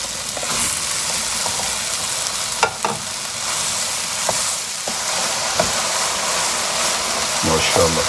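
Lamb mince sizzling and frying in masala in a pan, a steady broad crackle with occasional stirring clatters and scrapes, fairly loud and close throughout.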